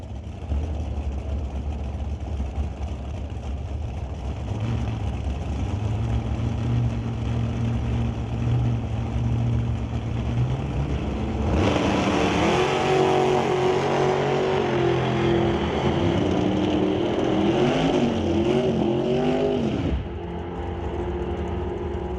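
Drag racing engines, a 1970 Malibu with a 383 cubic inch Chevy motor and a 582 cubic inch dragster, idle loudly and then burst into a roaring rev that climbs and falls for several seconds before cutting off.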